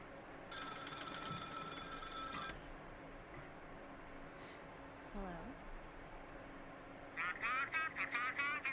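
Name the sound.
telephone ringing in a horror short film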